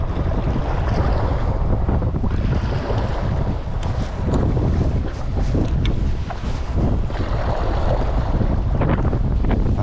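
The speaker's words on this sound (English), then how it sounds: "it is quite windy today" Strong wind roars steadily, buffeting the microphone with a constant loud rush, mixed with a low boat engine rumble and splashing water in Bristol harbour.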